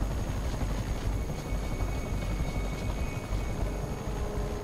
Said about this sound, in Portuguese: Tem um drone aqui perto.